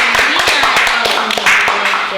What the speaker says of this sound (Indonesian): Jadi ya tepuk tangan dulu dong buat closing statement dari Hima.